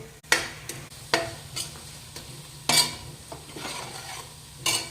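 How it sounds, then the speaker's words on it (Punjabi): Golden-brown food frying in a pan is stirred in several separate bursts of scraping and sizzle, close and fairly loud, with a steady low frying hiss between strokes and no one talking. "ਤੇ ਹੁਣ ਆਪਾਂ ਇਹਨੂੰ ਨਾ ਚੰਗੀ ਤਰ੍ਹਾਂ ਨਾਲ ਹਿਲਾ ਦਵਾਂਗੇ"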